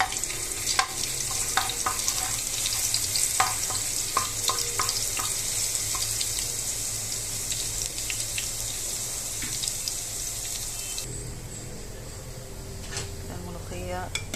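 Tasha, the fried garlic topping for molokhia, sizzles loudly in a pan with a continuous close crackle and occasional clinks and stirring.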